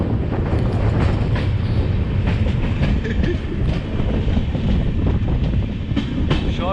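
An Indian Railways passenger train crosses a bridge over a river near Lucknow, heard from on board: a loud, steady rumble with rattling wheel clatter and some wind buffeting throughout.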